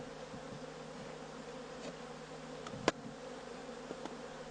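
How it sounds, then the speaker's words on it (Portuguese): Bees at a propolis hive give off a steady, soft buzzing drone with no talking, broken by a few brief, sharper clicks or knocks near the hive. "E olha aqui a abelha coletando a resina do"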